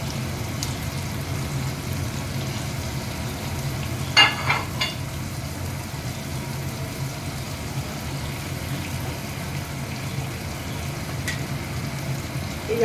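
Chopped green chilies fry in a pan over raised flame, giving a steady soft sizzle throughout with a brief cluster of sharper crackles near the middle and no talk.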